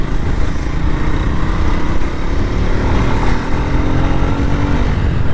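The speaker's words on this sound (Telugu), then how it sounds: "400cc బైక్ ఇది." A 400cc motorcycle engine runs loud and close, a steady rumbling drone that holds evenly for several seconds without any talking.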